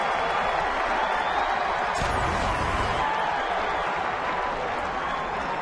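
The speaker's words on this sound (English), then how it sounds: "Fenway crowd jeering" At Fenway Park, the crowd jeers A-Rod with a steady roar of massed voices and whistles, loud and continuous throughout, and a commentator talks over it.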